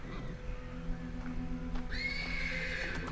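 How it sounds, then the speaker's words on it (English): A horse neighs from the stables, a loud whinny rising in the second half over a steady low background hum, with faint hoof shuffling audible earlier. "The persistent neighing of a horse can be heard from the stables."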